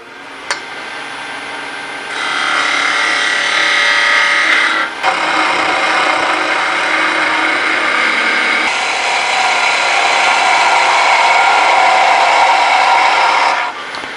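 A wood lathe spins at 2,000 RPM while a tool cuts a steady taper along a wand blank, a continuous loud scraping hiss that shifts in tone as the cut moves along.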